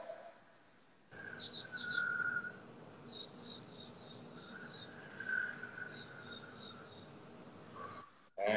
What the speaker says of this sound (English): I can hear the birds in your background.